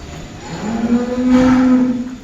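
A single cow at a Qurbani cattle ranch lets out one clear, drawn-out moo close by, rising and falling over about two seconds.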